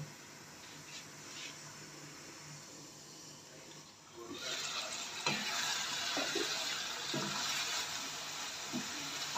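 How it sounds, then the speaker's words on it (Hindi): Ridge gourd curry is stirred in a pan, giving soft, steady sizzling and a few scraping taps of the spoon that grow louder partway through. "फिर दोबारा इसको अच्छी तरह हिला लेते हैं"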